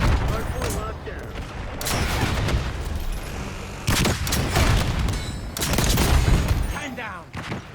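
Booming grenade-launcher volleys from the War Machine in Black Ops 6 multiplayer during a hardpoint match, heavy repeated explosive bursts that are loud and close, with game voice callouts mixed in.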